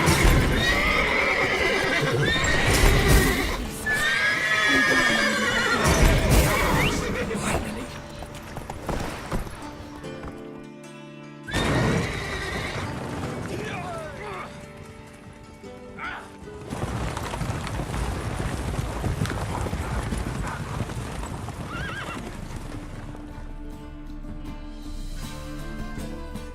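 Horses in the video game Witcher 3 neigh loudly several times over galloping clip-clop hoofbeats, with the calls bunched near the start and the pounding hooves continuing through a long stretch of action.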